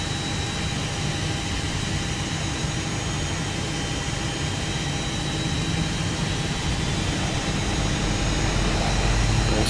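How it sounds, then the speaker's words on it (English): Simulated CFM-type jet engine on a JARDesign A320 in X-Plane spooling up during an engine two start, a steady broadband roar with a faint whine, loud and continuous with no talk. "Starting engine two."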